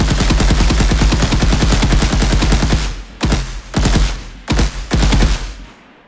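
Rapid automatic gunfire from a gun in an Unreal Engine third-person shooter, a loud sustained burst for about three seconds followed by several shorter bursts with brief gaps, no talking.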